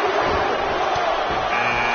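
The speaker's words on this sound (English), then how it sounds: "Listen to this crowd count the next one in." A video-game arena crowd in WWE 2K18 counts down toward the next Royal Rumble entrant, a dense, steady roar of many voices that fills the space without a break.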